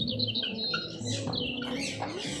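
Several birds chirp nearby in quick overlapping bursts of short, high tweets, lively and close, over a brief moment outdoors.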